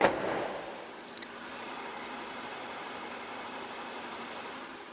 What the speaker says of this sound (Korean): 그리고 시동이 걸려 있는지 안 걸려 있는지 모를 정도의 엔진 소음이 납니다.